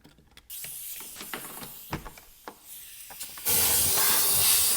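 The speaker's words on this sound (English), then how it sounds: "there's definitely a lot of debris coming out of this tank with the compressed air" Compressed air blasts debris out of a Suzuki DR-Z 400 fuel tank, first as short sharp bursts with clicks and rattles, then as a loud, steady, close roaring hiss for the final second or so.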